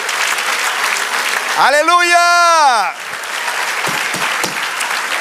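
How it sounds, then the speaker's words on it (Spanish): Church congregation applauding the Lord during a Spanish-language service, with steady, loud clapping throughout, briefly topped by a sustained sung or shouted "Aleluya" from one voice midway. "Denle otro aplauso al Señor."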